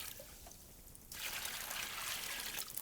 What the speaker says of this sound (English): we're just going to go ahead and pour this into our cement mixing tub